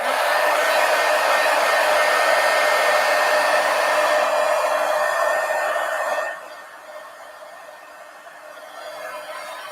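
A hair dryer blows loudly and steadily at close range to dry paint on a mixed media art page, then drops to a softer setting or moves away for the last few seconds.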